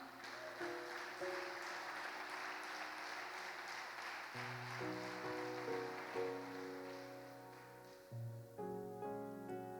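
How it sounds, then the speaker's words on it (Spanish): Church congregation at Iglesia Quebrada Bonita clapping for the Lord, a dense, fairly soft wash of hand claps that runs steadily, with sustained music or singing tones beneath and no speech. "Dale palmas al Señor."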